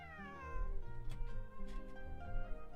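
A cat meows in a video game, a few drawn-out tonal mews at moderate loudness over a soft steady background.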